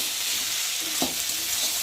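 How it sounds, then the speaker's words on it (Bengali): Ivy gourd (kundru) frying in a pan gives a steady, close hiss of sizzling oil, with a single scrape of stirring near the middle and no talk. "ভালো করে ভেজে নিতে হবে, তাই সবজির একটা কাঁচা গন্ধ আছে। দেখতে পাচ্ছি সবজিটা ভাজা ভাজা হয়ে গেছে।"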